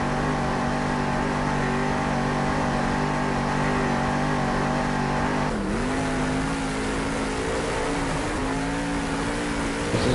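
Gravedigger monster truck racing laps around an indoor arena in Salt Lake City, its engine roaring loud and steady throughout with a brief dip and pitch shift midway before revving back up.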